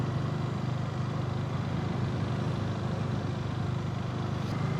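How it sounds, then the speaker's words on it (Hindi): A motorcycle ridden gently on a highway toward Mahoba while warming up gives a steady, continuous engine drone mixed with road and wind noise, loud and unbroken throughout. "और ये बाइक मैं आराम से चला रहा हूँ, थोड़ा वार्म अप हो जाए।"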